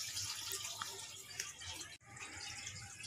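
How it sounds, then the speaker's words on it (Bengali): Water poured into a container of raw cow dung, a soft, faint, steady trickle and splash that briefly breaks off near the end before resuming. "এই পরিমাণ মতো আমি এর মধ্যে জল দিয়ে দেব।"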